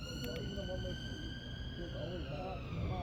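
An ambulance siren passes, its steady wailing tones sweeping slowly downward across the whole stretch, loud and continuous behind outdoor noise.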